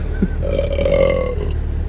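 A long, drawn-out human burp, close and loud, holding a rough tone for nearly two seconds on a sea fishing outing at Holyhead, North Wales.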